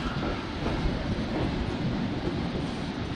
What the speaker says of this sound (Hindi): और भाई ये फ्रेट ट्रेन इतनी धीरे क्यों चल रही है यार रतलाम जंक्शन पे